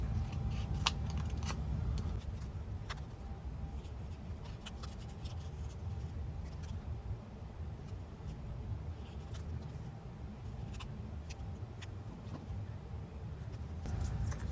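Soft, close paper rustling and snipping as paper pieces are trimmed for a Graphic 45 Alice in Wonderland trinket box craft, with light intermittent cuts and handling noises over quiet background.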